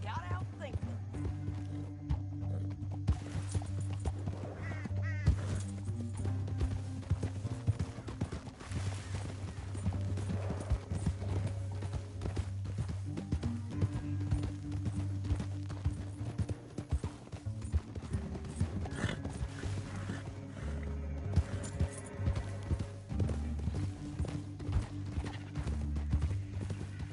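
Horse hooves clip-clop steadily on the ground through Red Dead Redemption gameplay, with the odd whinny, while characters talk over the rhythmic steps.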